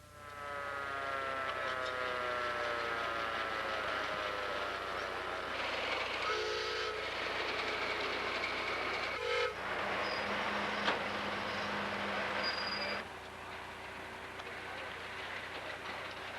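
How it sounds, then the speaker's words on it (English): Steam locomotive whistles blow together at a rail show during a railway historical society convention in the Salt Lake area, several long sustained tones overlapping and changing pitch over a steady rumbling crowd background. "At an appointed hour, there was a whistle-blowing event."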